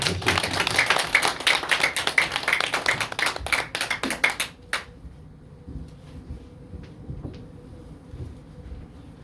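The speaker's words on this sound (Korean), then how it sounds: "박수로 맞아야 될 것 같습니다" A church congregation claps during a Sunday service to welcome a guest. Distinct close hand claps come in a loose burst for about four seconds, then stop abruptly, leaving a quiet room with a few faint taps.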